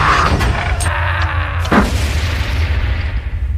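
A grenade explosion in an anime fight scene, a sharp booming blast followed by lingering rumble and a few smaller impact hits, loud and close.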